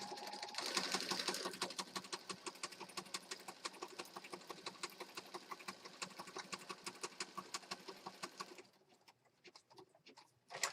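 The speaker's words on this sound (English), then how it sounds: "first I'm going to stitch around the word bloom, and then I'll stitch around the outside edge" A sewing machine runs steadily while stitching a paper junk journal page, its needle hammering in a fast, even rhythm for several seconds before stopping abruptly, followed by quieter handling clicks.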